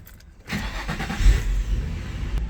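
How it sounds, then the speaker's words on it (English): A Nissan 350Z engine cranks and catches, then settles into a steady, loud idling rumble close by. "I want to make sure the car still turns on"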